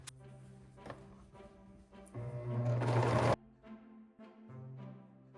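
A sewing machine runs a short seam on a turtleneck neckband, one steady mechanical whir lasting about a second amid quieter rustles, taps and handling noise before and after.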